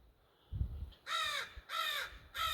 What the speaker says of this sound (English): the birds are in there and the magpies are still getting used to it